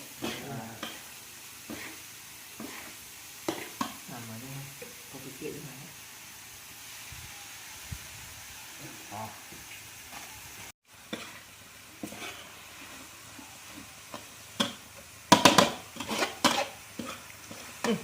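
Food is stir-fried in a pan: a soft sizzle under repeated scraping of a utensil against metal, with occasional clinks and a voice speaking nearby.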